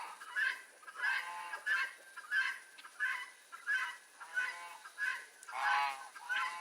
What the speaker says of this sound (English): There's one of the goose.